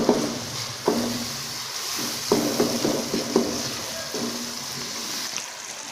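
Spices frying in a pan sizzle with a continuous soft hiss, broken by a few clattering scrapes of a spoon stirring against the pan at irregular intervals.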